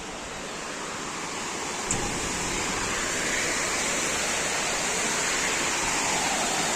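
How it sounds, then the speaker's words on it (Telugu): Water pouring over a village dam at Bhainsa, a loud, continuous broadband roar of rushing flow that holds steady and close for the whole stretch, with no voices. "వాటర్ చూడండి ఎట్లా వస్తున్నాయో"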